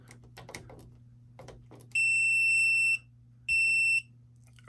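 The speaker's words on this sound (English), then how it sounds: "Drop them in, you should hear some beeping." A Kwikset SmartCode 912 Z-Wave Plus deadbolt lever smart lock beeping after batteries go in, two long steady electronic tones, loud and close, following a few soft handling clicks.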